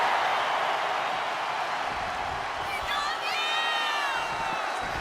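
A crowd in the WWE 2K25 video game roars and cheers continuously in the arena, with whoops and whistles rising partway through, under a commentator talking.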